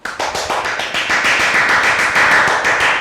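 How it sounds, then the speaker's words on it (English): A teacher gives a big round of applause in a Year 1 classroom, fast, loud, close hand clapping that runs in rapid claps for about three seconds. "now I'm going to give you a very big round of applause"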